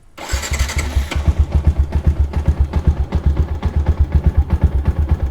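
A Yamaha MX King motorcycle engine cranks and catches close by, then settles into a loud, pulsing idle with a steady rhythmic thump, no talking.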